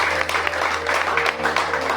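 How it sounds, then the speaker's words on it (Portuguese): A church congregation applauds during a service. Moderate clapping runs through the brief moment, with a low steady hum underneath and faint voices mixed in. "A igreja que orou comigo, dando um lindo aplauso ao Senhor Jesus."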